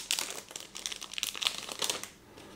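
Wooden board-game cards are shuffled and handled up close, giving soft papery crinkles and quick rustling flicks in short bursts, fairly quiet and with no talk.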